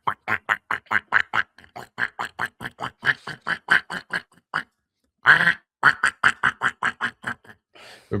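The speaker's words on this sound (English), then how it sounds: "Been practicing my duck call all morning." A handheld duck call blown in rapid bursts, a long run of short nasal quacks in quick rhythm, then a brief pause and another burst with a drawn-out wail, loud and close with no talking.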